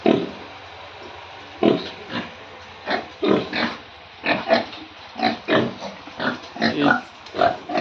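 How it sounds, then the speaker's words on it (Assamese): A mother pig and her piglets grunt in a rough, uneven series of close, fairly loud oinks and snorts, with no talk over them. "এইটো মোৰ গাহৰি মাক, গাহৰি পোৱালি।"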